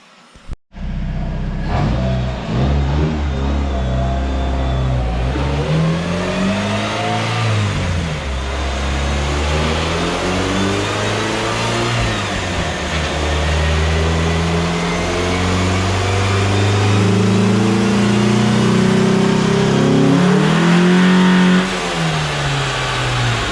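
A Dodge Neon on a dyno, set up with a 65-shot of nitrous, revs hard for a long stretch. The loud, close engine note climbs and dips in pitch through repeated pulls after a sharp start.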